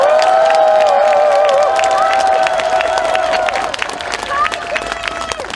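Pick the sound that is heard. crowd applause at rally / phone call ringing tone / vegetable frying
crowd applause at rally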